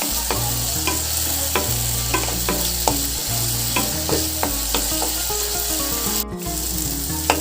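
Potatoes, boiled beforehand, and tomatoes are stirred in a hot frying pan, a spatula scraping and knocking in regular strokes over a steady sizzle, with a low, constant tonal hum underneath.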